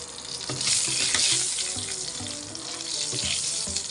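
Whole green chillies and cumin seeds frying in hot oil in a pan while being stirred, a continuous close hiss and sizzle with light scraping, no voices.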